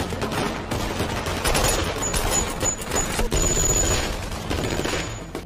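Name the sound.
gunfire in a film shootout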